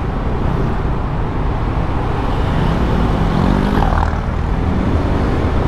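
Steady, dense road traffic on a service road at midday, a continuous near wash of engine and tyre rumble with vehicles passing, no talking.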